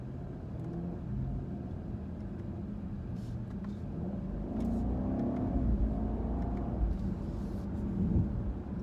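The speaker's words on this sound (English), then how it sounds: "I'm going to try and get a full acceleration little clip right here." A 2017 BMW 750i xDrive accelerating at full throttle, heard from inside as a steady low engine rumble and whir that swells gradually over several seconds, moderately loud with no speech.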